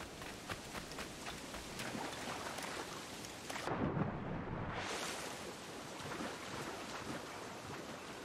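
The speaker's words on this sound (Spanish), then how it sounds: "Tormentas." A thunderstorm rages in Assassin's Creed IV Black Flag, with steady heavy rain and wind hissing throughout. A deep rolling thunder rumble swells near the middle.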